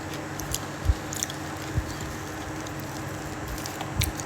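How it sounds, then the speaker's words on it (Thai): Crunchy frozen watermelon being chewed close up, with a few distinct crisp bites spaced out over a soft background hiss. "กินแตงโมแช่ฟรีซอะแล้วก็เคี้ยวกรุบกรุบกรุบอะ"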